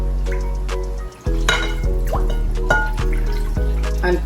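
Rinse water from a bowl poured into a cooking pot of simmering Jamaican tripe and beans, a close splash followed by a few irregular drips and dribbles over a steady low stove hum.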